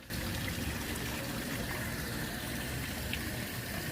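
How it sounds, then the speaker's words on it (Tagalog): Water pours steadily from above into a wishing fountain pool filled with coins at a religious site, a continuous close splashing wash with no talk. "Hindi rin stock tubig dito dahil may umaagos mula sa itaas"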